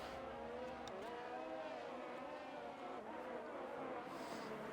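Alfa Romeo race car in a sim racing game, its engine droning and revving steadily at a distance, faint and continuous under a low hum, with a commentator's voice barely present.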